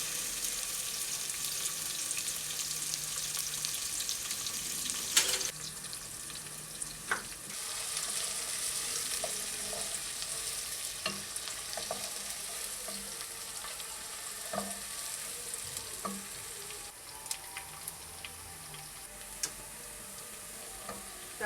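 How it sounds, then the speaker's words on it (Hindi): Thinly sliced onions sauté in two to three tablespoons of oil for a beef salan, giving a steady close sizzle with occasional clicks of stirring throughout. "प्याज को बस इतना सा ये हमने सोते करना"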